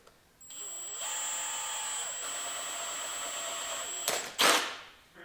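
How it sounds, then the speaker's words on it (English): A drill bores through an empty paint can with a steady, close, high-pitched whine for several seconds, then breaks through with a short metallic crunch and rattle at the end. "I'm just gonna drill a hole through it"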